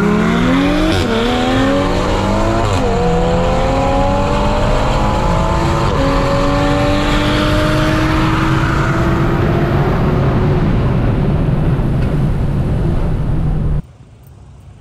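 A tuned BMW 440i with a JB4 piggyback tune accelerates hard in a street race, its engine climbing through several gears with rising pitch sweeps and brief shift breaks, loud and continuous, cutting off abruptly near the end.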